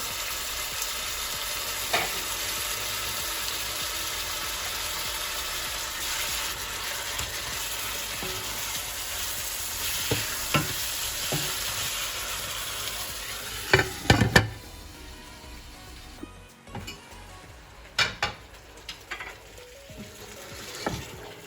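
Chicken biryani with masala cooks in a covered pot, giving off a constant hiss and sizzle. Near the end the lid or the pot rattles and clanks a few times, with no voices.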